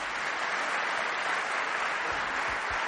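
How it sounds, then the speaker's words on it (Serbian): Audience applause at the Bosnia and Herzegovina football player of the year award ceremony, a dense, steady wash of clapping from a large crowd that carries evenly through the whole stretch. "Zato molim vas još jedan veliki aplauz za našeg idola"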